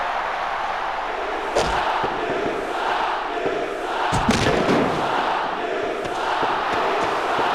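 A wrestling crowd in Glasgow, Scotland roars and shouts in a continuous wash of noise, with occasional louder bursts and a few thuds from the ring under the din.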